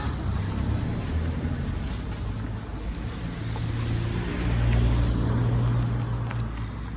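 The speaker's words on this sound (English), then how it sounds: "I'm just letting the traffic pass." Road traffic passes close by in a steady, broadband rumbling wash that swells slightly midway, with no talk over it.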